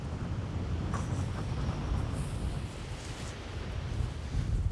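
Strong coastal wind buffets the microphone in a continuous low rumble, with gusts rising and falling over distant surf as the tide floods in.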